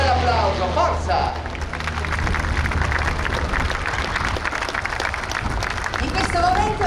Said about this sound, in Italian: noi andiamo a chiudere un bel applauso, forza!